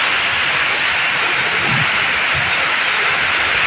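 Heavy monsoon rain pours down steadily and won't stop, a dense, loud, unbroken hiss throughout, with no voices.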